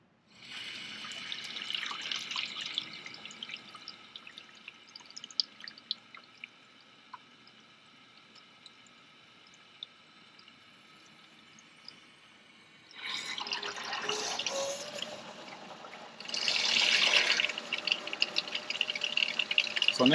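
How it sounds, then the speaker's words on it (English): Water is turned back on slowly through an RV coach's plumbing after a filter change, with faint trickling and dripping at first, then louder bursts of rushing flow later on, with no talking. "Now we're turning on the water slowly."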